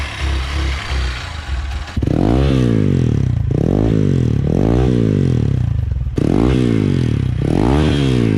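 A Hero XPulse 200 fitted with an Akrapovic exhaust idles, then revs loudly in repeated rising and falling bursts up close, the throaty engine note dominating throughout.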